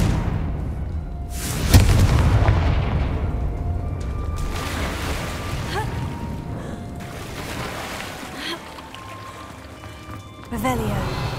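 In the video game Hogwarts Legacy, the Confringo fire spell bursts with a loud boom near two seconds, followed by rumbling blasts and crackling magical effects, with another sharp burst near the end.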